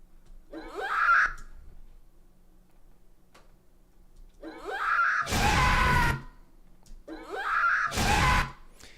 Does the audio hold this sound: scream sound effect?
yes